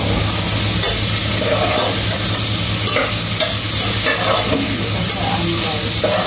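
Ginisang misua ingredients sautéing and caramelizing in a pan, giving a loud, steady sizzle with constant hiss and occasional stirring scrapes throughout.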